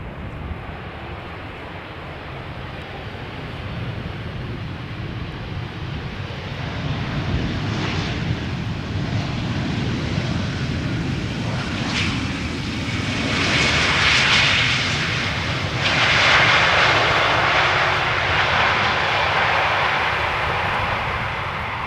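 A nine-year-old airliner, first flown in March 2015, arrives at Amsterdam Schiphol Airport from Bilbao. Its engines give a long, steady roar that swells gradually as it nears and peaks loudly toward the end.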